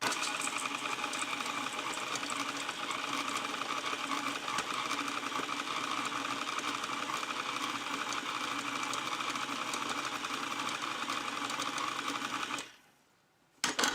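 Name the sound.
mixer stirring chocolate biscotti dough with almond slivers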